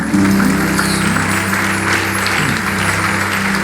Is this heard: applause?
yes